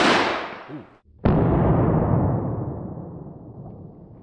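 A single sharp gunshot from a Classic Firearms carbine rifle on a ranch, a loud crack that ends in a long, slowly fading rumble, with a softer muffled thump just before it.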